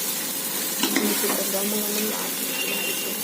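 Mint leaves and tomato sauté in a pan with a steady, loud sizzle, and a spoon occasionally scrapes and stirs against the pan over the continuous frying hiss.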